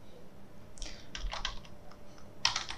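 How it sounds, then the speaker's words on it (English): Typing on a computer keyboard while searching in Windows 10: a few short, quick bursts of clicky keystrokes, close and fairly quiet, with the last burst the sharpest. "click on the search bar on the right top and type"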